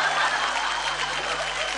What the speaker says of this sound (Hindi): 2010 के लोग ताली भी बजाते हैं क्या?